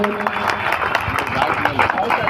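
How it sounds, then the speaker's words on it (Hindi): Audience applause after a stage play by a Patna theatre group, a steady wash of clapping mixed with crowd murmur and voices throughout. "अगर नाटक अच्छा लगा तो छोटे में ताली बजा दीजिए सभी"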